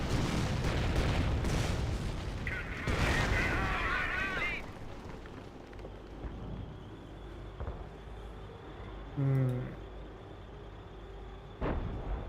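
Artillery barrage in the World War II strategy game Company of Heroes: deep booming blasts and rumbling explosions, loud at first then fading to a distant low rumble with scattered later impacts and faint game effects.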